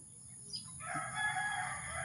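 A rooster crows once at close range, a loud drawn-out call rising after a short lead-in, with faint background noise and no talking.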